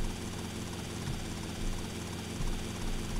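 A helicopter in the video game GTA Vice City gives a continuous, loud rotor and engine drone with slight swells in level.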